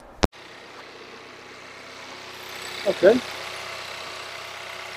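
A VW MK7 Golf R, fresh from a spark plug replacement, fires up after a sharp click and settles into a steady, even idle, with a brief spoken word partway through.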